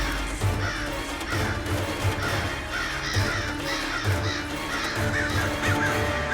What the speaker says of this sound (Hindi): हे भगवान, कौवे!